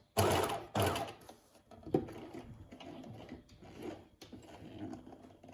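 A domestic sewing machine stitches a seam on fabric, close and steady, its motor whirring in a few bursts with brief pauses between runs.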